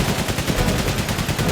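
Dense, loud machine gun fire in the wartime game 11-11 Memories Retold, an unbroken rapid stream of close shots pounding on for the whole moment.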